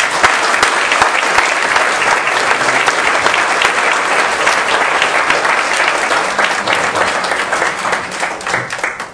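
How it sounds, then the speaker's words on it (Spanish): An audience applauds warmly after a lecture, a dense sustained clapping from a large crowd that lasts several seconds and tapers slightly toward the end. "Un cálido aplauso."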